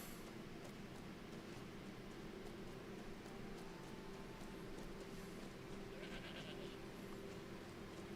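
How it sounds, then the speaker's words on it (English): A crowd of goats bleats in Skyrim Special Edition, several faint overlapping calls carried over a constant low ambient drone of the game world. "My god, that's a lot of goats."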